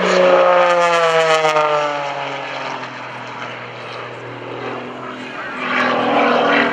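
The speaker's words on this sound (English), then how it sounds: "Mike Wiskus out there rolling his airplane around that Lucas Oil Special." An aerobatic propeller airplane's engine drones loudly and continuously, its pitch sliding down then swelling again as it rolls and maneuvers overhead at an airshow.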